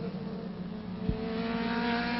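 A yellow race car in the 2007 Brasileiro de Marcas touring-car race drones steadily with engine noise, its pitch rising slightly toward the end, plus a brief low thump midway.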